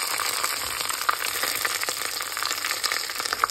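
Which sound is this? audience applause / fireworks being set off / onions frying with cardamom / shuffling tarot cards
onions frying with cardamom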